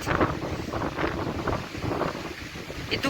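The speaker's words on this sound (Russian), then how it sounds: "Прям очень сильно ветер разбушевался." A strong nord-ost wind blows along the deserted Novorossiysk embankment in December. It buffets the microphone in loud, gusty rumbling waves, with no voices.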